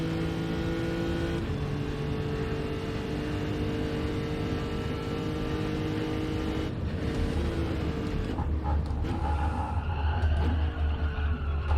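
Race car engine in Gran Turismo 7, a steady loud drone with tonal whine and gear-linked pitch shifts, near and continuous, lowering and changing character toward the end as the car comes out of the pits.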